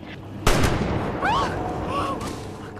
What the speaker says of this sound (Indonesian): tidak lama sebuah tembakan mengenainya